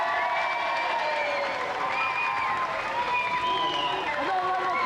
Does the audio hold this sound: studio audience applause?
yes